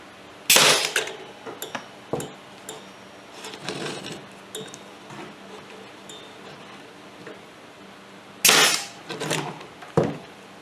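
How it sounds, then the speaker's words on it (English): A staple gun drives 1-inch crown staples into a Scag Tiger Cub mower seat during a repair, firing sharp, loud snaps spread irregularly, with two strong shots near the start and end and softer handling clicks between. "I'm just using 1-inch crown staples in there"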